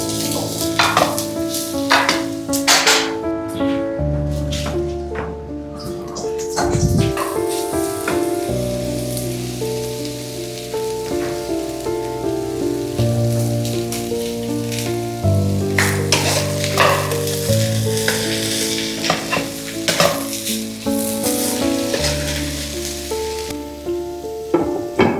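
Chopped okra for a coconut-free Kerala mezhukkupuratti cooks in a pan with a continuous loud sizzle and crackle, mixed with clinking and scraping and layered with background music throughout.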